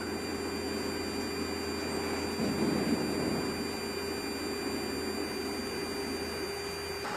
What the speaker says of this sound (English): You can start the other engine.